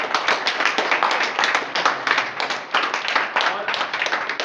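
An audience at a district sports celebration event claps in a sustained round of applause, the hand claps dense and fairly near, pulsing unevenly for several seconds.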